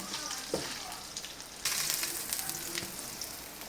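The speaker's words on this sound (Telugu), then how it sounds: "ఇప్పుడు ఈ నెయ్యిలో సిమ్లో పెట్టి స్టవ్ లైట్గా రెడ్గా అయ్యేదాకా ఫ్రై చేసుకోవాలి." Ingredients fry in ghee on a low flame for a pumpkin halwa, giving a steady soft sizzle with occasional stirring scrapes and a sudden louder burst of crackling midway.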